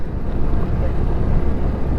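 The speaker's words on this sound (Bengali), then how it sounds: "এবার গাড়ির ইঞ্জিনের আওয়াজও বেড়ে গেছে।" A motorbike carrying riders labours up a steep jungle road near Sutan, its engine a steady, loud low drone mixed with wind rush against the microphone and no breaks.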